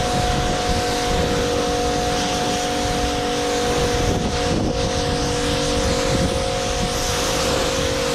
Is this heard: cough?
no